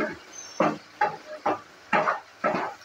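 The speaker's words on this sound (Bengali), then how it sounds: "তুলে নেওয়ার পর আবারও ভালো করে একটু নেড়েচেড়ে নিচ্ছি।" Aloo palak sabzi of potato and spinach is stirred in a pan in a steady rhythm of six soft scraping sweeps, about half a second apart, close by.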